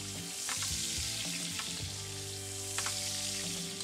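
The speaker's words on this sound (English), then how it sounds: "we want to baste them with that beautiful oil and butter mixture" Chicken breasts frying in a pan of oil and butter flavored with garlic and thyme, a steady loud close sizzle with soft scraping and spooning clicks as the fat is basted over them, no talk.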